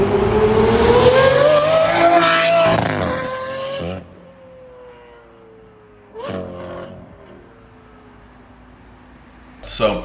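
A Ferrari F12 engine with open exhaust revs hard and loud, pitch climbing, then falls back to a lower rumble, followed by two shorter throttle blips.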